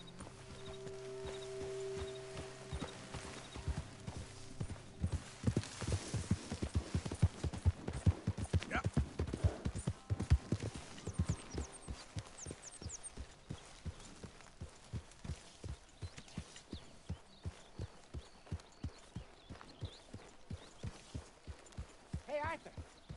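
Horse hooves from Red Dead Redemption 2 clip-clop at a steady walking pace close by, continuing the whole time, with some talking over the rhythm early on.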